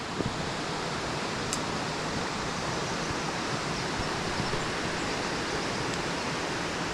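Steady broadband rush of a waterfall at a river's edge at Stichill, continuous and fairly loud with no voices, a dense even roar filling the whole stretch.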